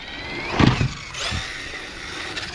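A Kraton RC truck's electric motor whines and surges close by as it drives and attempts a flip, with a bump near the start and a fluctuating drive tone afterward; no talking.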